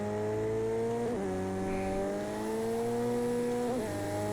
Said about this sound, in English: Actually going to drop down into second gear this time.